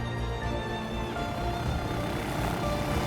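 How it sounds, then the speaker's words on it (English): A helicopter flies over Lake Wanaka in New Zealand, carrying hikers toward Mount Aspiring National Park: a steady, fairly loud rotor and engine drone continues unbroken throughout, with no voices. "A helicopter takes people into Mount Aspiring National Park for hiking."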